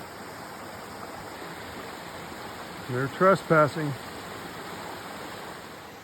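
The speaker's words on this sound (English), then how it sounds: "there's some water right there." A small stream of water runs beside a hiking trail, heard as a steady, even rushing wash throughout, with someone talking briefly over it near the middle.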